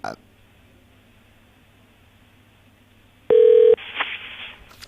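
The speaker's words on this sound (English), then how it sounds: "Please answer your phone." A telephone call being placed: a single loud electronic ring tone sounds for about half a second, followed by a faint line noise and a voice on the line, with a steady low hum throughout.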